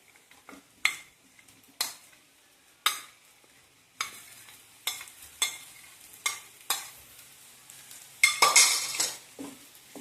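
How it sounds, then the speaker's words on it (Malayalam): Chopped potatoes tip into a hot pan and fry, with repeated scraping stir strokes and clinks of a spoon against the pan over a soft, steady sizzle, ending in a louder burst of frying. "ഇനി നമുക്ക് ഇതിലേക്ക് അരിഞ്ഞു വെച്ചിരിക്കുന്ന ഉരുളക്കിഴങ്ങ് ചേർത്ത് കൊടുക്കാം."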